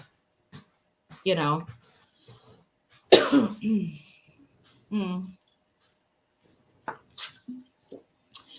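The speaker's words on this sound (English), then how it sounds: "Usually when I cough like this, that's when I need to light a cigarette" Several harsh smoker's coughs and throat-clearing sounds come in separate bursts, with quiet pauses and small breathy noises between them.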